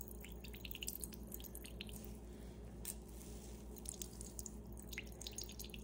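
Water drips and squishes from salted cauliflower being pressed for paratha, a quiet series of small wet drops and squelches over a steady low kitchen hum.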